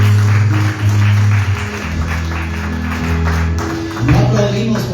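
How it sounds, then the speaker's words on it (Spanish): A church congregation claps loudly in a steady, uneven patter, with voices and music underneath. "Dale un aplauso a nuestro Dios. Fuerte, hermanos, que se sientan tus ganas."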